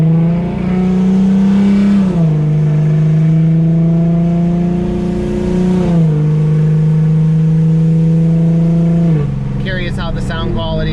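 Steady engine drone of a car driving on back roads with the window down, a loud low hum that rises and falls gently with speed changes, with a brief higher rushing sound near the end.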